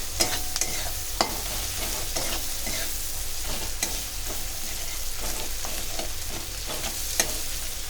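Kochur loti, taro stolons, fry with chepa shutki dried fish and spices in a pan: a steady close sizzle runs throughout, punctuated by repeated sharp clicks of a spatula stirring.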